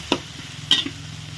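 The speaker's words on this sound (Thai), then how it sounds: "ผัดพริกก่อนจ้าให้หอมหอมตำพริกใส่กระเทียมนะจ้า" Pounded chilies and garlic stirred in a pan for Thai basil chicken, giving two sharp scrapes of a spatula against the pan over a faint, low sizzle, with no talking.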